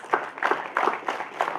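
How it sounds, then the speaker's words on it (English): Applause from an audience at an inauguration ceremony, clapping in several uneven bursts that swell and fade in quick succession, fairly close and moderately loud. "I think they deserve a big round of applause."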